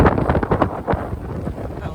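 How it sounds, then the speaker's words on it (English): Strong wind gusts of about 28 knots buffet the microphone on a sailboat off the Sardinian coast during a mistral, a loud, continuous rumbling roar that swells and eases, with no talking. "We're getting some gusts now."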